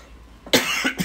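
A single sharp cough close to the mic, followed by a shorter second cough, loud against a quiet background.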